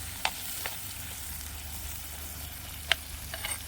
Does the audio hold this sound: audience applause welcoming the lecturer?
no